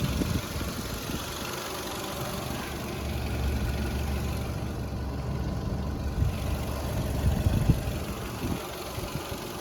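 A Volkswagen Golf 5 Plus with a 1.6 MPI 75 kW BSE petrol engine idles steadily, a low, even mechanical hum with slight swells in loudness near the end, heard up close with no speech.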